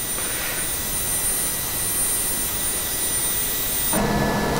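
A Learjet's jet engines whine and roar in Flight Simulator X, a steady broadband rush with a high tone, which shifts abruptly near the end as the view changes.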